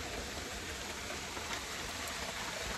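Steady rain pours down at an outdoor pole barn construction site, a dense, even hiss of drops on surfaces that stays constant throughout, with no voices.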